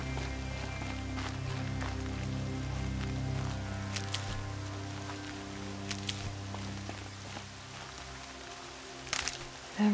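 Rain falls steadily in the game Horizon Zero Dawn, a soft continuous patter with scattered sharper drops and a few louder taps near the end.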